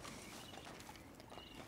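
Quiet horse hooves clip-clop at a steady walking pace in the video game Red Dead Redemption 2, faint and slightly distant.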